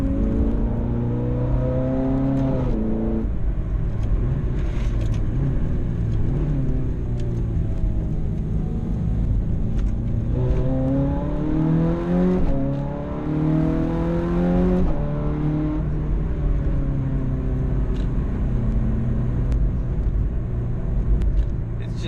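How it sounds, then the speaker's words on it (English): Ferrari 430 Scuderia V8 engine heard from inside the cabin while driving, its note rising and falling through several gear changes, loud and continuous throughout. "And the beautiful V8 behind you."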